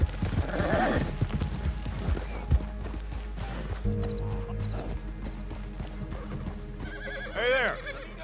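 Hooves clip-clop along with a horse snorting and whinnying near the end, amid ambient sounds of the video game Red Dead Online and some faint background noise.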